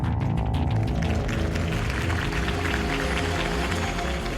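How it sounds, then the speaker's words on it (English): Large crowd applauding and cheering at a political campaign rally for Harvey Dent in Batman: The Telltale Series, a dense, loud, continuous wash of clapping that fills the whole stretch. "If only Mr. Wayne, my campaign's largest backer, could have heard that applause"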